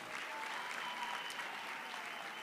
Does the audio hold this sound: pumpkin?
no